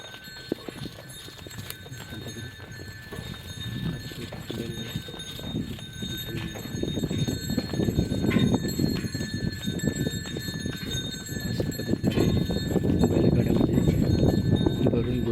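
A bullock cart loaded with pearl millet rolls along a farm track. Steady hoof clip-clops and a rumbling cart grow louder over time, with faint voices in the background.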